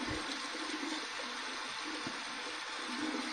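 Cold water runs steadily from a tap as a constant close hiss and splash, with no talking.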